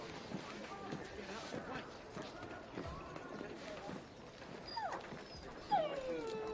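Dog in the video game Assassin's Creed III, faint whimpers and soft yelps rising near the end, mixed with footsteps and a quiet background.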